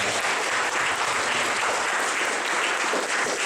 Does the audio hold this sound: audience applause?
yes